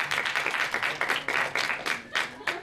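An audience claps and applauds in bursts, with irregular rising and falling waves of hand claps filling the room at moderate loudness, as from a crowd at a live stand-up comedy show.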